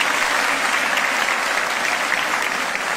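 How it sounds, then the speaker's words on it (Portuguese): A live audience at a Brazilian gospel singer's testimony event gives a thick, continuous round of applause for the sound crew. It is loud and uniform throughout and no one speaks. "Aplauda esse pessoal do som maravilhoso."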